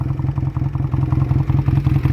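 A 1999 Honda Rebel 125 motorcycle with an aftermarket exhaust idles close by, a steady low, even pulsing throb with a light mechanical clatter and no talking.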